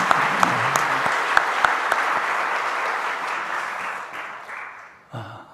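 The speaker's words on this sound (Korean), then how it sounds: "마음을 담아서 박수 한번 할까요?" A church congregation claps together during a Sunday worship service, a dense, loud burst of applause that gradually thins and fades out before a voice returns.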